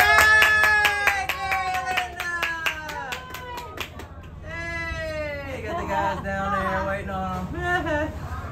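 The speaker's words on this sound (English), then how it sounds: "Everybody cheer." A crowd aboard a cruise ship cheers and claps, with lively overlapping voices and whoops, a busy din that dips briefly midway, then swells again.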